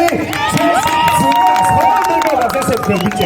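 Festival crowd at a skateboarding event cheering and shouting in dense, continuous waves, with voices and whoops rising over steady hubbub throughout; clapping is hard to pick out within the noise.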